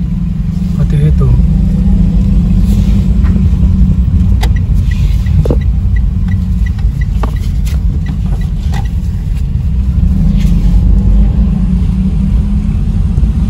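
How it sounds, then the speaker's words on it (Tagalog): A car driving on the road gives a steady, loud low engine rumble and road noise throughout, with faint speech and small clicks over it. "mag-drive muna ako pa uwi"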